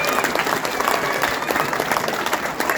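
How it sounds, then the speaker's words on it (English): An audience claps for the Massapequa Mustangs coaches at an award event, dense, lively applause sustained throughout at close range. "Let's clap it up for them, please."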